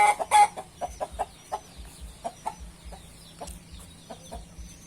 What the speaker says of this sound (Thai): นี่ครับอนุบาลลูกไก่ในสุ่มเลยนะครับ